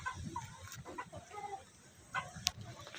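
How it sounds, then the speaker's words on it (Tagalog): An Ulikba chicken, a backyard hen, gives soft scattered clucks and short murmuring calls close by. A sharp high chirp comes near the end over a faint outdoor background. "Dito sa Ulikba naman ay Ulikbang manok ko."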